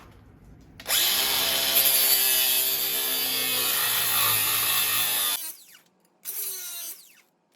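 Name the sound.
ratchet wrench removing screw under Polaris RZR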